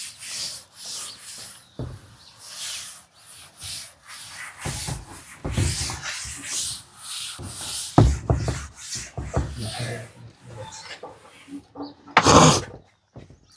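An eraser rubbed across a board in a classroom, repeated close scrubbing strokes in irregular bursts, with a louder burst near the end.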